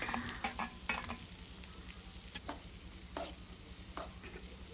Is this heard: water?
no